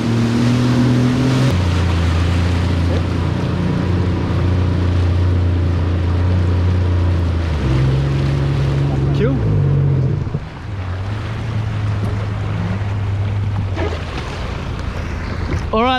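A jet ski engine roars steadily on Subic Bay, its pitch shifting as it revs and settles, loud and close throughout with wind and water noise.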